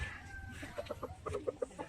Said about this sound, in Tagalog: Ang dami naming manok